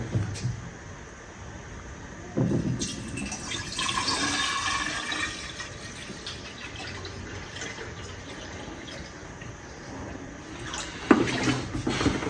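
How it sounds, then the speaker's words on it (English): Water being poured from a container during home preparation of a herbal drink, a gushing splash that builds after a couple of seconds, steadies into a moderate rush, then ends with a louder splash near the close. "I'm going to pour more water here."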